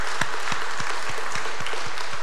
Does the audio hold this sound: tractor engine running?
no